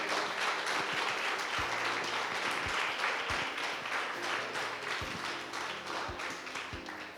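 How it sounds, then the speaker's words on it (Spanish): Church congregation applauding during a Sunday service, a dense, steady wash of clapping that fills the room for several seconds, with a few louder low thumps scattered through it. "Dale un aplauso al Señor."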